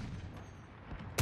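A single loud shot from the Rytec sniper rifle in Call of Duty Search and Destroy cracks out near the end, sharp and close, after a stretch of low background game noise.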